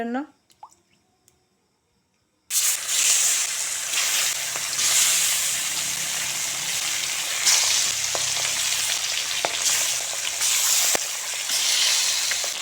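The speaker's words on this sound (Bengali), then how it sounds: "এখন মাছ উল্টে পাল্টে বেজে নেব" Fish pieces rubbed with turmeric and salt frying in mustard oil in a wok, a loud, dense, steady sizzle with scattered pops and drips, preceded by a short quiet moment with a few faint sounds.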